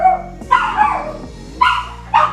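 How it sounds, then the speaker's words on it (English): A house dog barks indoors, three loud, close yaps spaced about a second apart over a low steady hum, with no talk. "My dog started barking because my mama came home."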